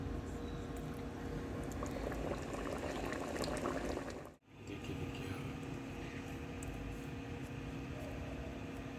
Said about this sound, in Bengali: আর এখানে ফুটছে চিকেন আর রাইস একসঙ্গে।